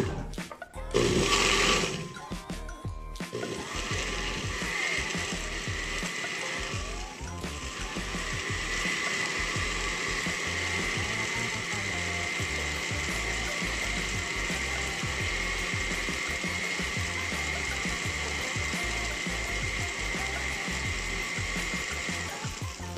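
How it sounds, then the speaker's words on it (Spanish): An electric blender whirs steadily as it purees red chile sauce with garlic cloves and a little water, starting with a brief louder burst and then running continuously for a long stretch. "Lo vamos a ir licuando de poco a poco."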